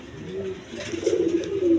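A Raj Golla coloring pigeon coos close by, a few soft throaty calls that swell louder toward the end, with no talking.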